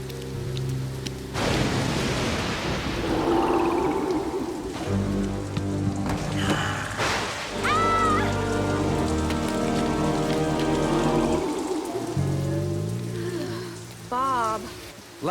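Steady rain pours down outdoors, a dense hiss of drops on surfaces throughout, with voices and brief cartoon sound effects layered over it.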